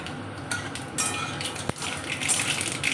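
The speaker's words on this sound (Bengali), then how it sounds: "দেখুন ফোড়ন চরবর চরবর করে আওয়াজ হচ্ছে" Dried red chillies and mustard seeds crackle in hot oil for a Bengali nim chalkumro shukto, a steady close sizzle broken by sharp pops and a single loud crack, with metal utensil clinks.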